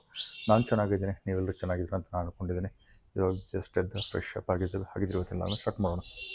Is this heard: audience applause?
no